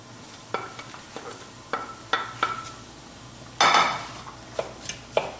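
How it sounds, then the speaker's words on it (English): Onions, peppers and garlic cook in a pan with tofu: a low sizzle under repeated clacks and scrapes of a spatula against the pan, with one louder burst of sizzling midway. Close, with no talking. "Now we're going to add our onions and peppers and the garlic here."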